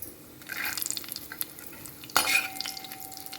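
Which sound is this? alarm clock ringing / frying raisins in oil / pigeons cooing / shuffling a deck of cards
frying raisins in oil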